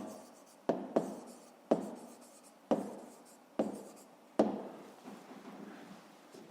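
A pen scratches out math notes for a fifth-grade exercise, repeated close strokes each starting with a sharp tap and fading into a scrape, about six in a steady rhythm.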